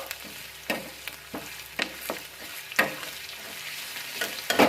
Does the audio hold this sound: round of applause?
no